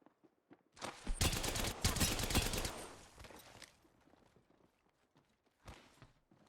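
Rapid automatic gunfire in Apex Legends, a dense burst of shots lasting about two seconds, close and loud, trailing off into scattered quieter pops and ending with one more short volley.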